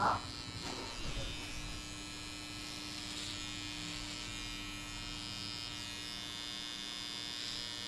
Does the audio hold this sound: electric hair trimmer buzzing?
yes